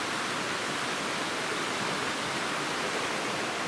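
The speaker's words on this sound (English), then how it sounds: "We are right by this beautiful creek." Creek beside a wilderness campsite in the Cranberry Wilderness, a steady broadband rush of flowing water, close and constant with no talk.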